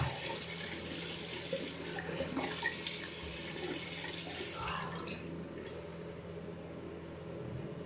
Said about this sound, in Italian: E poi una botta di acqua fredda.